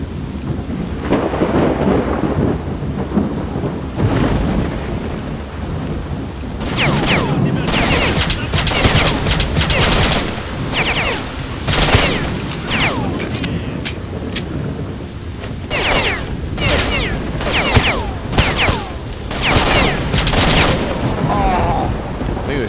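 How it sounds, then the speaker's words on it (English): Gunfire in the video game S.T.A.L.K.E.R. Shadow of Chernobyl, with a run of loud, sharp shots and bursts in close succession over a steady rumbling ambience. "Shooting me in the legs or something."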